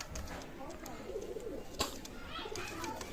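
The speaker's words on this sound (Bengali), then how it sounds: "রানিং পেয়ার কবুতর" Pakistani high-flyer pigeons coo softly in a loft, with low repeated calls and a brief flutter or knock, while muffled voices carry faintly in the background.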